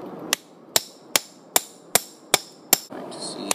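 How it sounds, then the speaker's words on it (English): A hammer strikes a metal punch at a primitive forge: seven sharp, evenly spaced ringing blows, close and loud, followed by a brief scraping clatter. "Just hammer on top of it."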